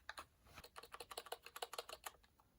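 Rapid, steady key presses on a Geodmaer 65% gaming keyboard, about twenty crisp clicks in quick succession at close range with no voices.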